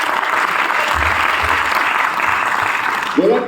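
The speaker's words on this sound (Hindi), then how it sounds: "सर के लिए जोरदार ताली बजाओ" A group claps loudly for a teacher in a dense sustained burst, with a voice murmuring underneath and a brief louder sound near the end.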